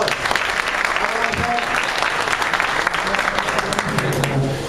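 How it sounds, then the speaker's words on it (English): Audience members at a volunteer appreciation breakfast applaud, with a full burst of clapping from a room of people, while voices and murmuring carry underneath. "Give them a big round of applause"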